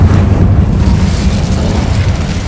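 The Incendio fire spell cast in Hogwarts Legacy bursts out as a loud, dense roaring boom that rumbles on without a break, close and heavy, with no voices.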